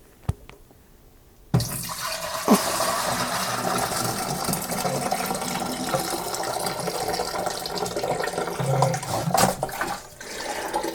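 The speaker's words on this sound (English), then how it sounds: "This time around, I think I'm going to just try and pour everything in" Cooled apple pie mead must pours steadily into a one-gallon fermenter, a continuous close splashing rush that starts abruptly after a brief click and runs for several seconds before easing.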